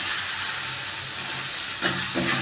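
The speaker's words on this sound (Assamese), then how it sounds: "ভাতখিনি দি দিয়াৰ পিছত মই ভাতখিনি ভাজিছোঁ" Cooked rice fries in a pan with fish belly, giving a moderate, continuous sizzle and hiss; a few louder scraping stirs come near the end.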